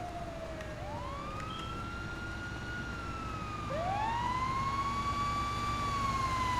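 A GTA 5 video game ambulance siren wails in rising and falling sweeps, growing louder partway through, over a low engine rumble.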